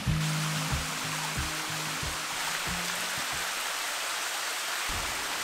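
A small forest waterfall by day gives a steady, even rush of falling water that fills the whole stretch, with a faint low hum underneath.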